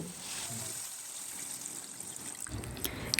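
Water poured into a tamarind curry with gram-flour fritters, heard as a faint, quiet trickle that grows into a fuller splash toward the end.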